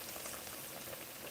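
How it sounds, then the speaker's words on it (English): Steady crackling sizzle of food frying in a hot pan, a continuous, fairly quiet hiss with small pops and no voices. "one thing I find with this frying pan, like it just fries things very quickly"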